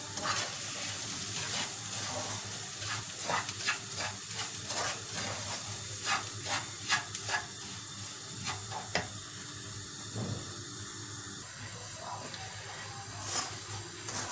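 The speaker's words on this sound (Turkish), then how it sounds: "şimdi karıştıraraktan kavuracağım" Semolina stirred and roasted in a pan for irmik helvası, a steady dry sizzle and scraping with irregular clinks of the spoon against the pan, continuing throughout, close and moderately loud.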